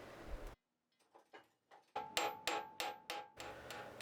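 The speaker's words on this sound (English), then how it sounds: "here again I'm drilling and riveting one side, and then once that's set I'll drill and rivet the other side" A hammer strikes rivets on a hand-forged shop door latch in a blacksmith shop: a few light taps, then a run of six sharp, ringing metallic blows in steady rhythm, close and loud.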